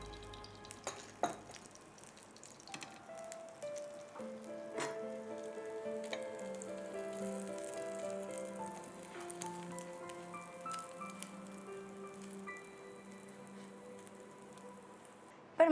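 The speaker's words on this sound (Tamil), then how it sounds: "இப்போ இந்த நெய் விட்டு நம்ம சுட்டுக்கலாம்." Murtabak frying in ghee on a griddle gives a steady close sizzle with soft spatter and a few utensil scrapes and taps, with no talk.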